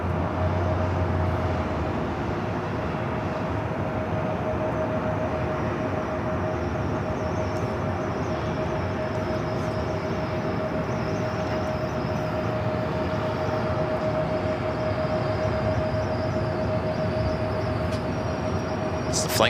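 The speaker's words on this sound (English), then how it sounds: "Flight coming in from SFO." A Southwest Boeing 737-700 arriving at LAX from SFO produces a sustained jet roar with a steady whining tone, holding constant in loudness throughout the approach.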